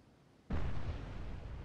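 A Tomahawk missile hit in the submarine game Cold Waters: an abrupt deep explosion that swells into a sustained low rumble, heard distant and fairly faint.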